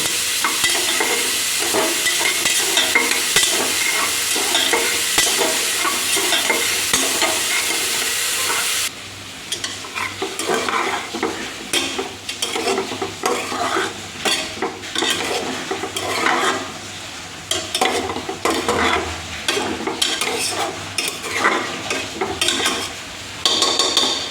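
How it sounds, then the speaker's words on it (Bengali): Vegetables frying in hot ghee are stirred and scraped with a spatula in a steady, busy rhythm, close and alone. A continuous sizzle runs underneath, and the scraping gets choppier partway through. "ঘিয়ের মধ্যে সবজি ডালিয়ে একটু নেড়ে নেওয়ার পরে"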